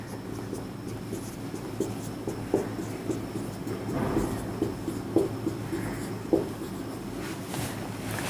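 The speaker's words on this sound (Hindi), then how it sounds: "कुछ नंबर्स हम यहाँ पे लिखते हैं" Numbers being written on a board make faint scratchy, tapping strokes that come in small bursts over a steady low room hum, with no talking.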